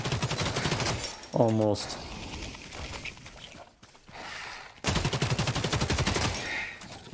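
Hip-fired gun in The Cycle: Frontier lets off rapid automatic bursts, close and loud, a stuttering volley early and another sustained string near the end, with a brief spoken word between.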